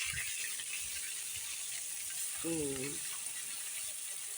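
Boroli fish frying in a pan gives a steady, close hiss of hot oil throughout. A short tonal voice or squeak rises briefly in the middle.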